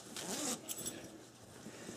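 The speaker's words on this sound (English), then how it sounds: "This zipper is the biggest zipper I think I've ever seen in my life." A very large, heavy-duty zipper on a thick fabric bean bag chair cover is pulled in a steady rasping run, quiet and close, lasting about two seconds.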